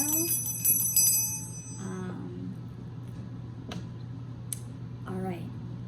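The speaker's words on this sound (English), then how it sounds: "ring the motherfucking bell" A bell rings out in a few bright strikes near the start, its tones hanging and fading, followed by quiet room ambience with faint voice sounds.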